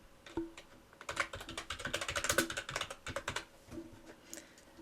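Keystrokes on a computer keyboard while accounts data is entered into parish council bookkeeping software: quick clustered bursts of clicks with short gaps, close and fairly quiet, no talking.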